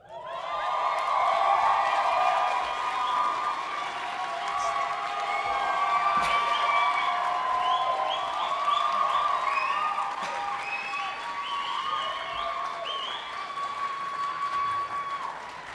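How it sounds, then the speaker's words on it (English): Sustained audience applause fills a plenary session hall at a health conference, dense and steady for the whole stretch with scattered cheers and whoops rising above it. "Wow, I was not expecting applause."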